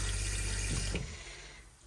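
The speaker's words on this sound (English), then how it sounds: "press the blue button to get a flow of water into the bowl" Water rushes into a motorhome cassette toilet bowl from the pump-driven flush button in a 2010 Auto-Trail Frontier Arapaho, a steady close gush that tapers off after about a second into a fainter trickle.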